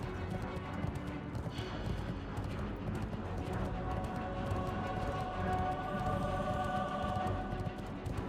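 Horse hooves clip-clop steadily in a World of Warcraft game, set inside a dense, loud wash of rumbling game sound that runs continuously throughout.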